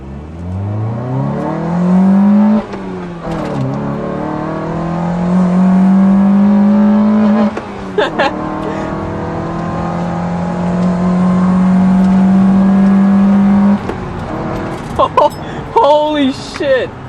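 A bagged 1998 Honda CR-V accelerates hard from first gear, its engine climbing in rising revving sweeps through several gear changes, loud and close inside the cabin, with brief voices near the end.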